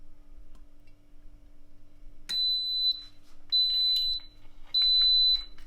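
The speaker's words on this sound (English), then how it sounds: "This is just the sound of the Instant Pot being turned on" An Instant Pot multicooker being switched on gives three loud, sustained high beeps in a row, each about half a second to a second long, in a quiet kitchen with faint background hum.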